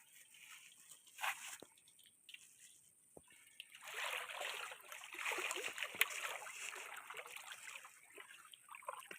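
People wading through water in the Sundarbans forest give a continuous soft sloshing and trickling, fairly faint and steady, with occasional splashes and no speech.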